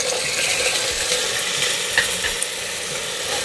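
Potatoes and tomatoes frying with onion for masale bhat, a loud, dense sizzle with a steady crackle and faint clicks of stirring, continuous and close throughout.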